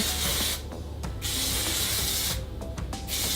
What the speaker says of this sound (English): And then I'm just going to shoot with some hairspray.